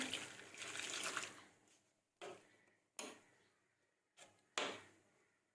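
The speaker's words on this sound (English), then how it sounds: "Now we will wash the smoked beef with some warm water." Warm water splashes over smoked beef in a kitchen, one longer pour followed by four short, sharp splashing bursts, close and fairly quiet.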